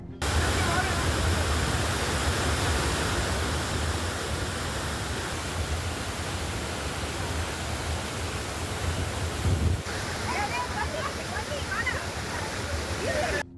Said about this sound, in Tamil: குற்றால அருவிகளில் ஏற்பட்டுள்ள காட்டாற்று வெள்ளத்தால் அருவி பகுதி முற்றிலுமாக சேதமடைந்துள்ளது